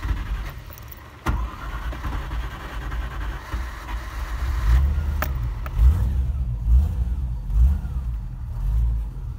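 A cold car engine revved with the throttle, rising from idle into several repeated surges that swell and fall, loud and close, with no talk over it.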